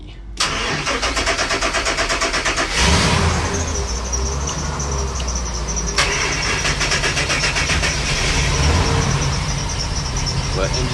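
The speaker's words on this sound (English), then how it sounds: "But engines seem to fire up pretty good." Engines on a 2006 Sea Ray Sundancer 37 express cruiser crank with a rapid rhythmic starter chatter, then catch and settle into a loud, steady rumbling idle, with a second engine cranking and firing partway through; someone talks over it.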